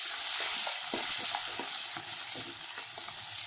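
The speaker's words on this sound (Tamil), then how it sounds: "எல்லாத்தையும் போட்டு நல்லா வதக்கணும்." Onions and tomatoes stir-fry in a pan with a continuous hiss of frying and quick, rhythmic stirring scrapes close by.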